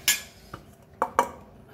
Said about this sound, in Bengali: এবার ভাতটা বেড়ে নেবো।